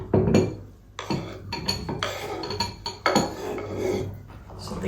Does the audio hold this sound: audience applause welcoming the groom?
no